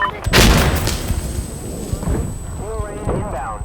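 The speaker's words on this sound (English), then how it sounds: "They're firing mortars!" Mortar rounds land in the game Insurgency Sandstorm with a heavy booming blast and rumble, followed by a rolling echo and a faint whistle, while voices shout over it.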